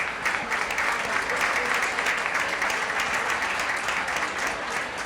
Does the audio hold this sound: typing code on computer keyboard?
no